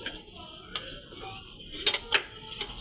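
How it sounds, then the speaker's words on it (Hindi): A kilogram of beef is dropped into a pressure cooker while making beef yakhni pulao, giving a few close metallic clanks and knocks of meat and utensil against the pot, with soft kitchen handling between. "ये 1 किलो बीफ मैंने कुकर में डाल दिया।"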